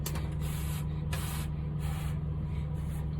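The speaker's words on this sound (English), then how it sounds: "Blow that breath on it." Breath blown onto false lash glue during makeup: four or five short, close airy puffs in a steady rhythm over a constant low electrical hum, with no talk.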